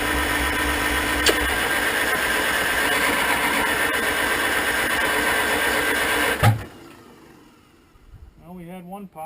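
A 1947 Farmall M tractor engine runs loudly and steadily on its first start after a rebuild, then cuts out abruptly with a thump, leaving near quiet before voices speak.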